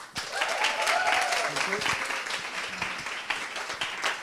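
An audience at a women-in-sales evening event claps for a guest speaker being introduced, a dense burst of applause holding steady for several seconds, with a voice or two briefly heard through it.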